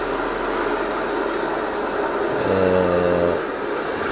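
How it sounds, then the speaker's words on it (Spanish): A helicopter flies overhead with a continuous broad roar of rotor and engine, a brief tonal hum rising within it, heard without any talking. "espera, que está pasando un helicóptero por acá. Va a haber un poco de ruido"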